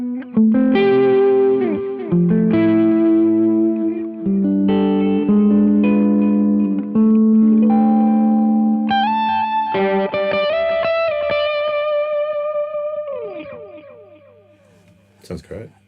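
Electric guitar played through an Anarchy Audio Gain of Tones overdrive pedal with delay added, distorted chords and bends with repeating echoes trailing off, and a voice briefly heard near the end.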